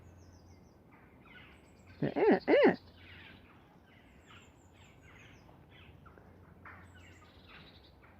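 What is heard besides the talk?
crows cawing over British countryside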